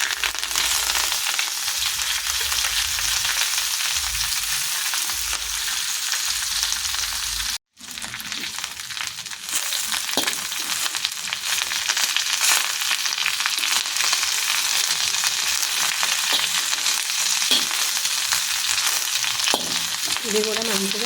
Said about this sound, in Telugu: కరివేపాకు కూడా వేయించుకుందామండి.